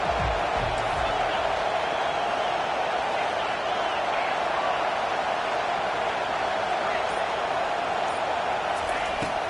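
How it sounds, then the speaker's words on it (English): A college football stadium crowd at Oklahoma versus Virginia Tech roars steadily and loudly to back the defense on third down, a continuous wash of noise under a commentator's voice. "Decibels rising as the crowd gets behind this defense on 3rd down."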